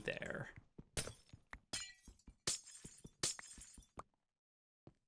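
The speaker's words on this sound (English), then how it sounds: "Now you can all enjoy being stressed out by the sound of breaking glass." Glass breaking in a video game, a series of sharp shattering crashes and tinkling bursts one after another, loud and close, ending in near silence.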